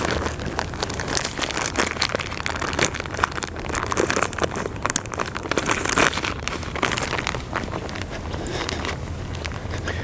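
A plastic tent-floor tarp being handled and shifted, giving continuous loud crinkling and rustling close by, with scattered sharp crackles throughout.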